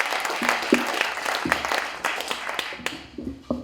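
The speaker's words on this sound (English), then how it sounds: "Huge round of applause, whoever's up here, okay?" Enthusiastic audience applause at a story slam, a dense burst of many hands clapping loudly and close, holding steady before thinning out near the end.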